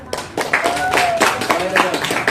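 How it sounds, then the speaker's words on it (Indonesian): A school class claps for a classmate after a poetry reading, a short burst of scattered hand claps close by, with a voice speaking over them. "Tepuk tangan untuk Nesya."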